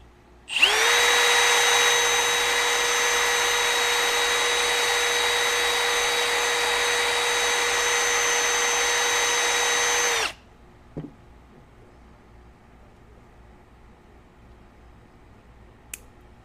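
Power drill with a step bit boring through aquarium glass for a bulkhead install, a loud steady whine running about ten seconds alone, then stopping, followed by a faint tap and near silence.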